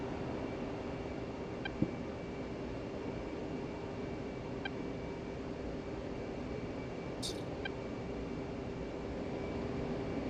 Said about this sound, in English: I'm just waiting on the engines spooling still